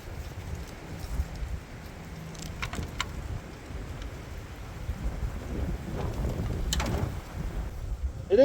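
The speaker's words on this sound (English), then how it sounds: "It is rather windy out" Gusty wind blowing outdoors around a beehive, a steady broadband rush with low rumbling buffets against the microphone, growing stronger toward the end.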